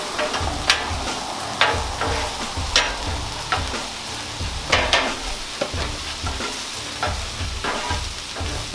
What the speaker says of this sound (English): we're gonna just go ahead and put everything out so that way it can cook a little bit faster